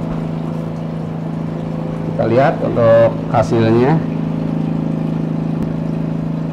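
A semi-automatic double-output liquid filling machine rated for 3000 ml runs with a steady, even mechanical hum throughout, while a person talks briefly over it in the middle.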